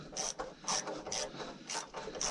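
A screw is driven into a door frame during a small house build, heard as about five evenly spaced, close ratcheting bursts with short pauses between them.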